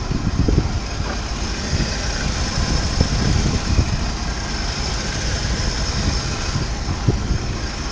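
An inline-six car engine idles after a cold start, a steady low rumble with faint irregular pulses, fairly close and unbroken by any talk.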